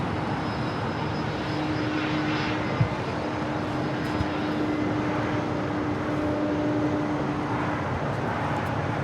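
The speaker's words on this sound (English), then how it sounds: "This is Delta Airlines flight 482 coming in from JFK. This is a 767-300ER." A Delta Air Lines Boeing 767-300ER arriving at LAX from JFK gives a steady, moderately distant engine roar with a faint tonal hum, continuous and unaccompanied by speech.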